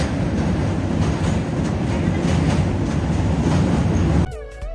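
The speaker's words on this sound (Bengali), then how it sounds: "সারা রাতে ট্রেন জার্নি শেষ করে আমরা এখন সিলেটের কাছাকাছি পৌঁছে যাচ্ছি।" A Dhaka to Sylhet passenger train rolls along with loud continuous rumble and rhythmic wheel clatter from inside a carriage, cutting off abruptly near the end.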